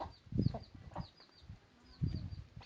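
Farm chickens cluck softly in a few irregular bursts, fairly faint and at a moderate distance, with no speech.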